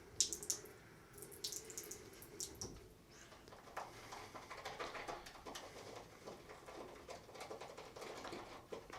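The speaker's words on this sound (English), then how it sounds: "One more splash." Water splashes and drips at a sink while someone shaves, with a trickling tap and scattered patter, fairly quiet and close.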